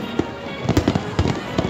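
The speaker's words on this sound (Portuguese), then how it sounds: "Fogos maravilhosos." New Year's Eve fireworks over Icaraí beach in Niterói, Brazil, crackle and pop in quick bursts of sharp bangs. Several reports come close together, heard from a moderate distance.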